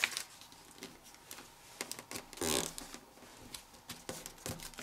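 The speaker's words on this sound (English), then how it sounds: "So now pinch along this crease and bring the fold to the middle." Sheet of paper creased and folded into a paper airplane: soft crinkles, scrapes and quick rustles close up, with one louder crackling swipe midway.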